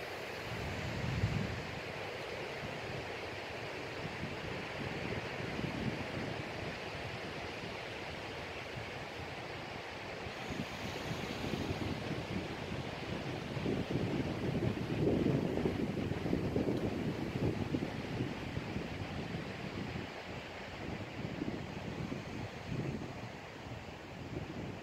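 Steady wind blows over open water and buffets the microphone, a continuous rushing roar with gusts that swell and fade, joined by faint lapping of waves.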